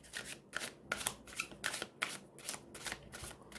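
Buddha Tarot cards are shuffled overhand in a quick rhythmic series of papery slaps and riffling bursts, about two per second, close and quiet with no talk.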